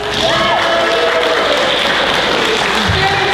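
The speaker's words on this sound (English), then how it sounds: "So please, another round of applause." An audience at the Ushicon 15 convention closing ceremony applauds steadily, a dense wash of clapping throughout, with faint tonal sounds and a brief voice near the end.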